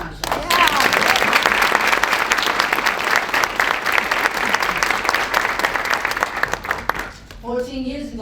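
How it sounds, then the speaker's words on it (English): Congratulatory applause at a hospital wellness center ribbon cutting ceremony: a crowd claps loudly and steadily for about seven seconds, then fades as a voice starts speaking. "Can we once again give a congratulatory applause to the members of the board"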